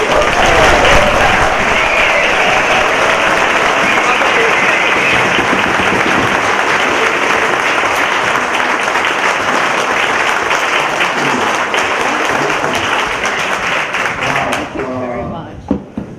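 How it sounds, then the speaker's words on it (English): A studio audience breaks into loud, continuous applause to welcome a guest, a thick roar of clapping that holds steady before tapering off at the end. "Used to being the subject of applause."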